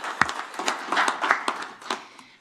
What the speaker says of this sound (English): I think everyone should clap.